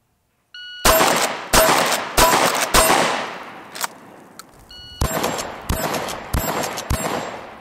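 A Benelli Supernova pump-action shotgun fires rapidly, with seven loud, sharp blasts that come in two quick bursts and a short pause between them. The racking clatter of the pump is heard between the shots.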